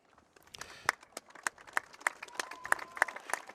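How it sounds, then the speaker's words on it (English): Stadium crowd at a high school football game clapping for veterans, a quiet patter of scattered handclaps with sharper individual claps standing out, fairly distant and thin rather than a full roar. "And we clap for the veterans."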